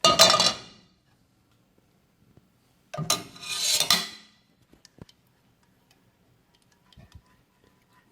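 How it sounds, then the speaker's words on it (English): A thick fruity paste for edible polymers is stirred in a bowl, giving two close rasping, scraping bursts separated by quiet gaps with a few faint ticks and taps. "so you have to gentle mix, keep mixing so that it make a thick paste"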